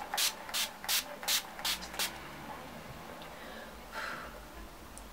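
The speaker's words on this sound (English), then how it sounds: "I'm gonna just spray my face a bit." Six quick hissing spritzes from a face mist bottle in a fast rhythm, close and crisp, followed by quieter rustling and one softer hiss.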